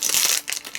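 Scissors snip and crinkle through plastic booster packaging for a Winnie the Pooh Tsum Tsum vinyl figure, a close, short burst of crackling followed by a few quieter rustles.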